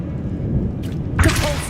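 Magical Revelio spell cast in Hogwarts Legacy, a sharp whooshing burst with a low thump, heard alone over a steady low game ambience.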